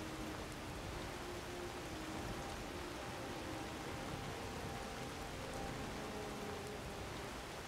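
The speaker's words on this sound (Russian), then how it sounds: "Вот дождь-то ударил." Steady, heavy rain in the video game Skyrim pours down continuously, a dense hiss of drops with no voices over it.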